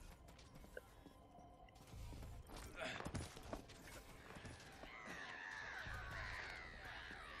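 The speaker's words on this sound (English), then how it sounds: "those are obnoxious sounding birds" Harsh, obnoxious bird cries from the video game Bulletstorm rise and warble over game ambience and clattering effects, growing louder and more sustained toward the end.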